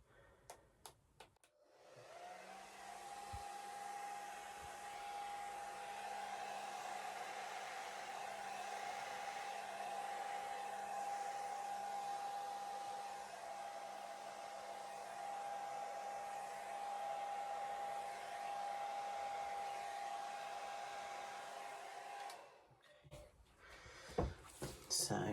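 A hair dryer blowing acrylic paint across a canvas in a Dutch pour runs as a steady, even whir for about twenty seconds, starting and stopping abruptly, with faint handling noises at either end.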